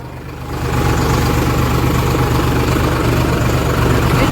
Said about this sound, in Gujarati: ઉત્તમ ભેરો થઈ ગયો રોટાવેટર લઈને। ટ્રેક્ટર આવી ગયું